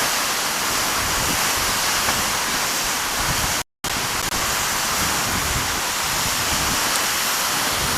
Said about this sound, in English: just feeling the din of the waterfall